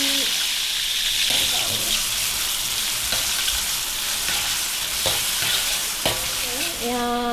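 Tomato and onion frying in hot oil in a home kitchen, a loud steady sizzle with a few stirring scrapes and faint clinks, close up, with a voice briefly heard.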